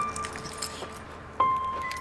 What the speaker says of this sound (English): Gotta get my keys.